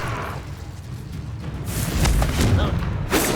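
A Confringo blast spell explodes in Hogwarts Legacy combat, a deep booming thud that lands in the second half amid other spell effects, with a brief voice shouting the spell.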